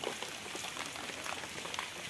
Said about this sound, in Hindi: तो बारिश जो है बहुत ज़्यादा हो रही है